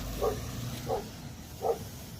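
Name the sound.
police K9 dog in patrol car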